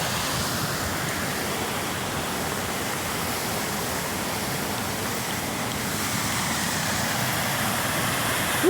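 Severn Break Its Neck Falls in Hafren Forest, Wales, a fairly large waterfall on the River Severn, roars as a loud, steady, unbroken rush of falling water, close by, with no voices.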